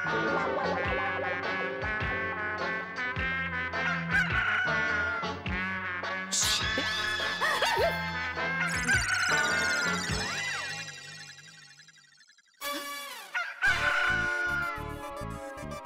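A rooster crows from inside a closed cupboard in a house, a long, loud cock-a-doodle-doo sounding several times over busy background music, muffled and echoing, with clucking between the crows.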